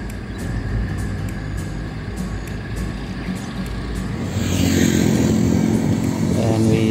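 A motorcycle cruising along an open road on a ride out of Bangalore, its engine drone and wind rumble steady and close, swelling a little louder toward the end.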